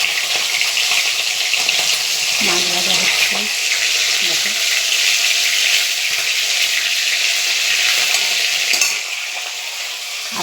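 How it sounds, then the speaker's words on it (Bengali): Rui fish belly pieces fry in a pan of hot oil, a loud, continuous bright sizzle with a few soft utensil knocks, and a brief word spoken over it near the end as the hiss eases slightly. "মাছ ভাজা হচ্ছে"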